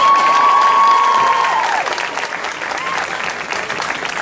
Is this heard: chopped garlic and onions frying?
no